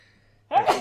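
A single short sneeze bursts out abruptly after a near-silent pause during a podcast, fairly close and loud against a faint low hum.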